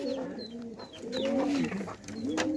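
Pet pigeons coo in a close, steady series of low, rolling calls that repeat almost without pause, with a few faint high chirps behind them.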